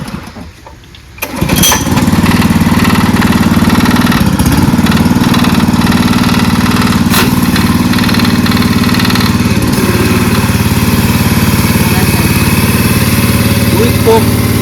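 A Bullet fire-service motorcycle fitted for firefighting starts up and settles into a steady, loud engine idle close by, running continuously.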